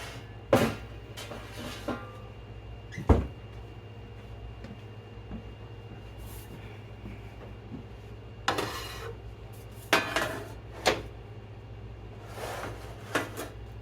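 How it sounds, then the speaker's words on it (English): A second pan comes out of a kitchen cupboard, with a few scattered metallic clanks and knocks over a quiet, humming room. "So I am going to get out a second pan in here."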